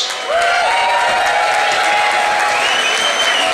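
An audience breaks into sustained, dense applause and cheering for two presenters at a prize-giving ceremony, loud and continuous, with a few voices audible within the crowd.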